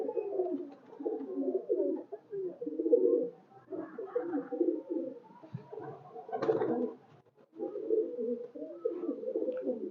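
Teddy and Golden cross-breed pigeons cooing in soft, repeated throaty bursts, a rhythmic series of murmuring coos close by with brief pauses between calls, no voices over them.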